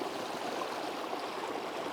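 Water runs through an ITEHIL portable water filter with a steady, continuous trickling and splashing hiss, close and unbroken, with no voices.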